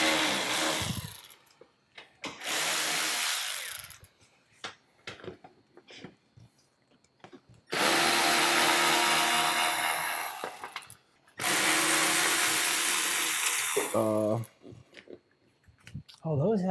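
Loud bursts of a power tool working 8mm bolts off the fan cover of a turbo BMW E36 M3 during a cooling system rebuild, several whirring runs of a few seconds each separated by clanks and quieter handling.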